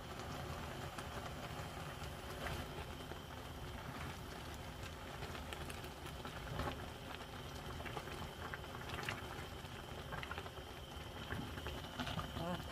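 Siraegi and dried pollock stew comes to a rolling boil in a pot, a steady close bubbling and popping that runs continuously without pause, with no talk over it.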